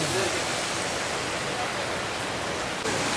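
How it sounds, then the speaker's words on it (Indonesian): Heavy rain falls in Yogyakarta outside a gudeg eatery, a dense, steady broadband hiss that stays loud and unbroken throughout, with no voices in the clip. "Guys, Jogja hujan lebat."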